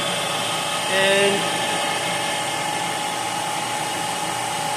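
A Monarch 10EE lathe spins at high speed, about 3,200 RPM, with the rheostat turned fully up, giving a steady, loud mechanical whine and hum throughout, briefly under a single spoken word.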